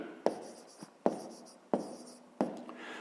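Pen on paper during a fifth-grade maths exercise, four short scratching strokes about a second apart, close and quiet, with no talk.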